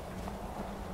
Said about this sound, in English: Apparently the goat's following us.